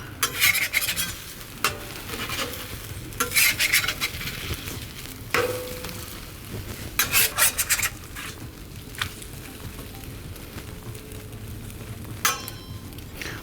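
Eggs cooking in a pan for low-carb wraps, with repeated scraping and stirring bursts from a spatula as they are divided and flipped, over a steady low sizzle close by, no talking.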